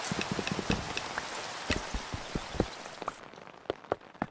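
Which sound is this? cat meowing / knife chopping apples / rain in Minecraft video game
rain in Minecraft video game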